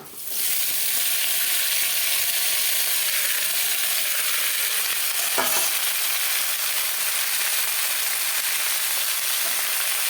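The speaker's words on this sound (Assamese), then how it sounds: "এতিয়া লাহেকৈ কাটি থোৱা অমিতা আৰু আলুখিনি দি দিম" Chopped papaya and potatoes fry in a pan, a loud, steady broadband sizzle that fills the clip from start to finish, with a brief stirring scrape near the middle and no voices.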